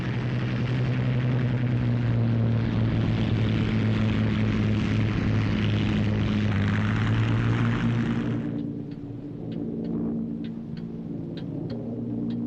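A fleet of WWII bombers takes off with a loud, deep, droning roar of many propeller engines that holds steady, then thins and softens toward the end, leaving faint ticking over a lower rumble.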